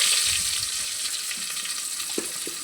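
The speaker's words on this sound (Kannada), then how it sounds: "ನೋಡಿ ಯಾವ ಥರ ಇದು ಆಗ್ಲತ್ತದಂತ ಫ್ರೈ" Chopped onions frying in oil in a pan, giving a steady close hiss of sizzling with a few faint clinks near the end and no talking.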